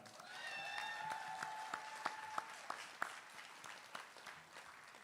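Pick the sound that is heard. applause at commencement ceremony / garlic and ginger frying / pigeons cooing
applause at commencement ceremony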